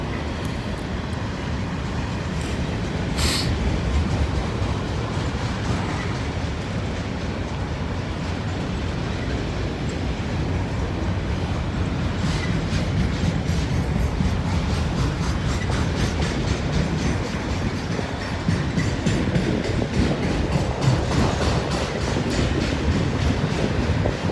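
A Norfolk Southern freight train rolls steadily past in Northern Kentucky, its loud, continuous rumble and clickety-clack of wheels on rail dominating throughout with no talk.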